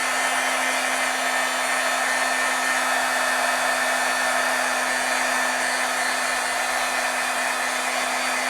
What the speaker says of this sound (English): Let's see if this heat gun will kind of improve that a little bit.